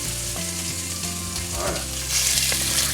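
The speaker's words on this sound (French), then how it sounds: "on va faire revenir la viande que nous avons coupée en morceaux de la taille d'une belle bouchée" Beef pieces brown in oil in a cast-iron pot over medium heat, with a loud, continuous sizzle up close that intensifies near the end, with a faint tonal hum underneath.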